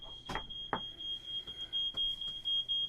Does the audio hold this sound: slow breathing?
no